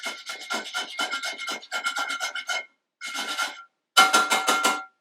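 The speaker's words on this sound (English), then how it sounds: "I grate them on my microplane grater" Whole nutmeg grated on a fine microplane for pumpkin spice sugar cookies, giving rapid rhythmic rasping strokes in four bursts with short pauses, close and clear with no talking.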